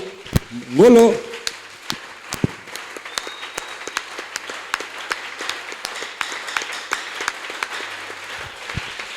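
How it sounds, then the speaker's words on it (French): Steady applause and cheering from a large church congregation at a Sunday service fills the room, with a brief voice rising near the start and scattered sharp claps continuing throughout. "Est-ce qu'on peut l'acclamer très fort?"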